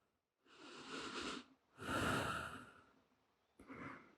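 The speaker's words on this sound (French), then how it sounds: "De longues respirations là." Three long, deep breaths during a kneeling yoga rest pose, slow airy inhales and exhales close to the ear, separated by short silent pauses, with no talking.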